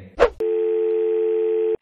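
A steady telephone dial tone hums for over a second after a brief rustle, then cuts off abruptly.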